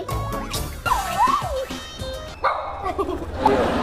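A dog barks repeatedly at close range in an outdoor setting. Barks and yips are mixed with people talking and background noise.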